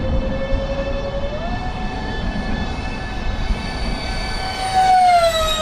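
An RC F-4 Phantom II model jet makes a high-speed pass right to left, its steady turbine whine holding level and climbing in pitch and loudness toward the end as it nears.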